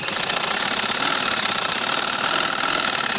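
A sewing machine stitches patiala salwar fabric, producing a steady, loud, continuous mechanical whir and rapid needle chatter with no pauses.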